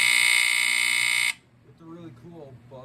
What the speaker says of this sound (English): With the really cool buzzer. Really cool, but dreadfully loud.